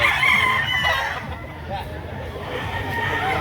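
A Gilmore Sweater gamecock stag, about eight to nine months old, crows once at a yard in Lipa, Batangas, with people chattering in the background.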